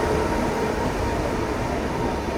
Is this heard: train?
yes